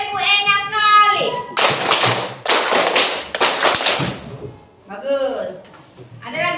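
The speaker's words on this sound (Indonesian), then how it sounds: "Tepuk 6 kali." A group claps hands six times in a rhythm game, sharp loud claps in a quick even burst, with a voice speaking before and after the clapping.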